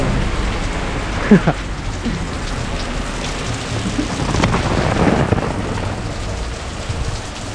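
Steady heavy rain on a film set pours down with rolling thunder rumbling through it, a louder crack early on and a longer swell midway, constant hiss throughout.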